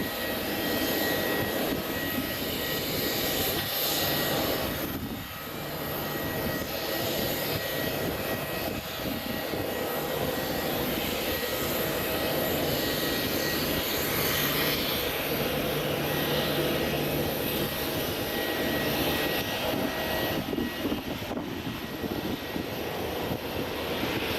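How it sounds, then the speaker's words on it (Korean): A fixed-wing airplane lands on an airport runway at sunset, its engine roaring loud and steady throughout alongside broad outdoor wind and rumble. "비행기 착륙하는 거 찍을 수 있어서 굉장히 좋았습니다"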